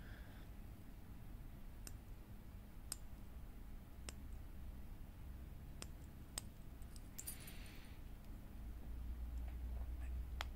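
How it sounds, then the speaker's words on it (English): The chronograph pushers on an Emporio Armani AR1808 watch give about eight sharp, faint, isolated clicks at irregular intervals against a quiet background. "Does make a decent clicking noise, maybe more than you would expect from a watch in this price range."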